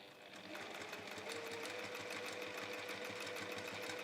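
A sewing machine stitches a seam on a reversible quilt-as-you-go project, a continuous close whirring hum with a fast rhythmic needle chatter that holds steady for the whole stretch.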